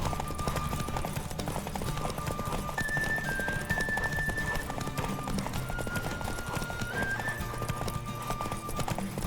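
Rapid, steady hoofbeats of a galloping horse in The Witcher 3 video game, loud and continuous, with a faint tonal hum in the background.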